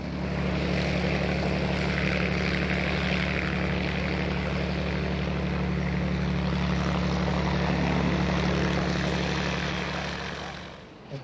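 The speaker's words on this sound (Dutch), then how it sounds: "Hier vliegt de FK-9 aan zijn topsnelheid van ongeveer 180 km per uur." An FK-9 light aircraft at an airshow flying past at its top speed of about 180 km/h, a loud sustained propeller drone with a steady low hum that stays strong before fading toward the end.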